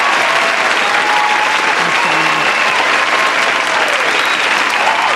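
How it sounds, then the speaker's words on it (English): A room full of people clapping in loud, sustained applause at a business talk event, a dense even roar of hands with no break throughout. "Round of applause."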